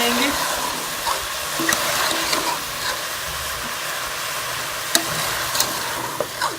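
Potatoes and mongray sizzling as they fry in masala, a steady broadband frying hiss with occasional stirring clinks and scrapes, close and moderately loud with no voice.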